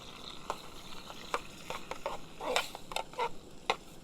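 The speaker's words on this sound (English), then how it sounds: "You hear that sizzle?" Canned food from a Ukrainian 24-hour military combat ration sizzling as it heats, quiet crackling and popping with scattered sharp spits, close and faint, no voices.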